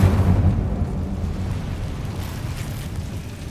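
An Incendio fire spell cast in Hogwarts Legacy erupts as a loud, deep whooshing boom that swells at the start and then fades into a rumbling roar, heard without any talk.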